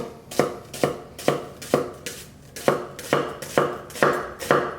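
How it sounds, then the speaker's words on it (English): A knife chops through an onion on a cutting board in about ten sharp, evenly spaced thuds, close and crisp, with nothing else heard. "you're gonna start cutting through the natural lines of the onion, and then across, and then chop again"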